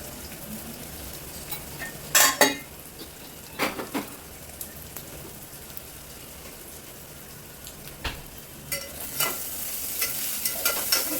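Red chilli powder, turmeric, garam masala and biryani masala are stirred into Khandeshi-style khichdi in a pan, with a soft steady sizzle and several sharper scraping strokes of the spoon, no talking.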